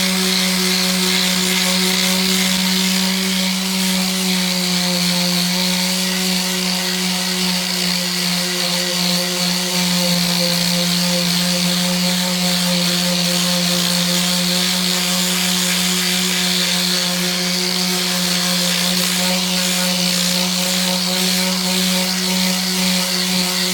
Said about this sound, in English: So, I take my sander and I go through here, and I'll sand